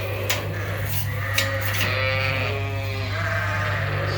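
Sheep bleating on a farm, several overlapping wavering calls up close, loud over a steady low hum, with a few clanks in the background.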